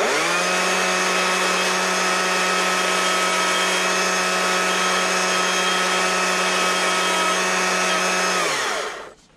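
A loud, steady chainsaw whine while carving wood runs continuously for several seconds, then cuts off abruptly near the end; no voices.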